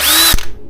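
Power drill whirring loudly up close for under a second, then winding down abruptly.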